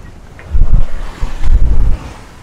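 Low, gusty 14 to 15 knot wind buffeting a microphone on a sailboat, rising in two strong bursts with a steady rushing noise between them.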